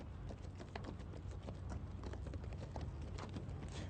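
Horses hauling artillery guns clip-clop in a dense, continuous patter of hoofbeats on hard ground, many overlapping steps in a quiet, distant-sounding mix, with no speech.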